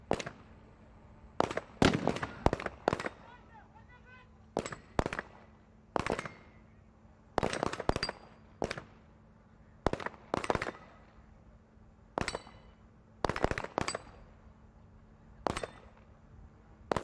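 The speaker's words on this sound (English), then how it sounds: "Was that the second of the shots? I lost count from the sniper." Gunfire at a SWAT team challenge in the UAE, including sniper rifle shots: sharp, loud cracks in irregular clusters and single reports, spread across the whole stretch with quiet gaps between them.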